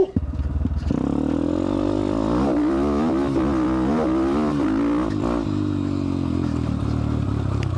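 A motorcycle with a newly replaced clutch lever runs close by, its engine rising and falling through a few revs with steady low rumble and no crackle.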